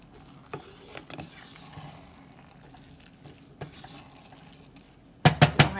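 Beans are stirred into seasoned rice in a pot, with soft scraping and a few light knocks, then a burst of louder clattering strokes at the end.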